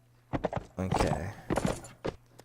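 Horse hooves clip-clop in Mount and Blade Warband, a few quick uneven hoof thuds at moderate distance, followed by a longer louder burst of movement and then a final pair of hits.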